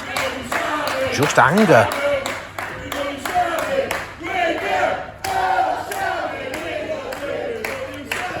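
Wrestling show crowd clapping and shouting in reaction to the action, a steady broad roar of claps and voices throughout with a commentator talking over it.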